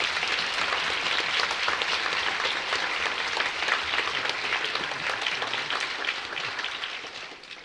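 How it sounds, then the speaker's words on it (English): Sustained applause from the audience for all the presenters at a three-minute thesis competition, a dense, steady wash of many hands clapping that fades slightly near the end. "I wonder if we could just have a round of applause for everybody,"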